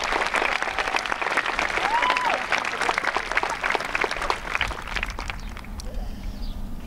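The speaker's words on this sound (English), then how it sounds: "Can we give the band a big round of applause?" Audience at a middle school promotion ceremony applauding the school band, a loud, sustained crowd of clapping hands with faint murmurs and a few whoops, easing slightly near the end.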